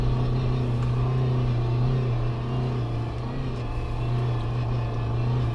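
A Suzuki Jimny engine revs steadily in third gear in 2WD, a loud, continuous droning hum holding near-constant pitch from inside the vehicle.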